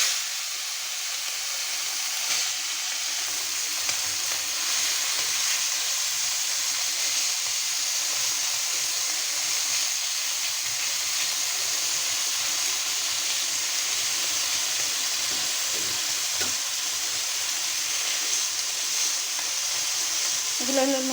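River chanda fish fry in a little oil in a pan, giving a steady, even sizzling hiss that runs unbroken and close for the whole stretch, with no voices.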